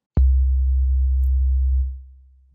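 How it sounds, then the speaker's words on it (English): A basic sine wave from the default patch of the Aalto CM software synthesizer, a pure steady low tone that starts abruptly and holds evenly for about one and a half seconds before fading out. "we're going to start with the default patch which is a basic sine wave"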